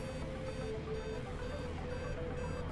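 A glider's variometer in Microsoft Flight Simulator gives a steady electronic tone with faint pulsing beeps over a low hum, continuous and moderately loud.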